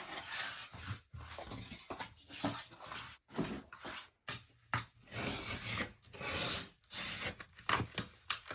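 A blade scoring a cardboard shipping box, close and quiet: a run of rasping, scraping strokes in short bursts separated by brief pauses.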